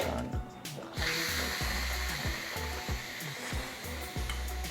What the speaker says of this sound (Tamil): இப்போ நம்ம வந்து ப்ரெஷர் வந்து ரிலீஸ் எடுத்துடலாம் மேடம்.